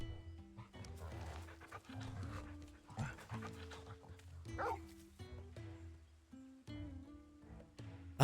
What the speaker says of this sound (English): This is Torgal, a wolf pup raised in the duchy